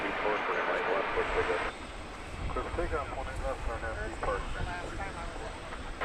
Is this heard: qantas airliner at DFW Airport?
yes